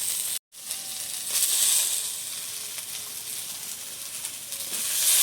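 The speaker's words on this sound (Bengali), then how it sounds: "সয়াবিনগুলো ভেজে নেব।" Soybean chunks fry in hot oil with a steady, close sizzle and hiss that runs almost the whole way through, broken only by a brief cut near the start.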